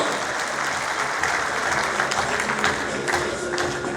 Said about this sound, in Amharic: አጨብጭቡላቸው፣ ሞራል ይገባቸዋል።